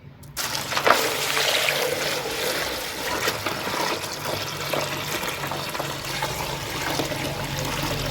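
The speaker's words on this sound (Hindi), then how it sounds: "तो अब मैं इसमें पानी ऐड करूँगी।" Water poured into a bowl of multani mitti (fuller's earth) clay, a close, continuous splashing trickle that starts suddenly and keeps flowing steadily.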